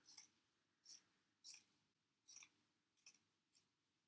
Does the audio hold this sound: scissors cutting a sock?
yes